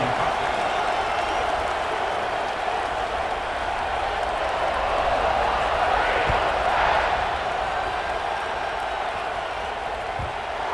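A stadium crowd cheers in the College Football 26 video game before an Auburn kickoff, a loud, continuous roar that swells slightly midway through.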